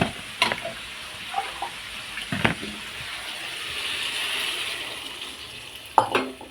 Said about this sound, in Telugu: ఇప్పుడు వాటర్ యాడ్ చేసుకోవాలి మనం.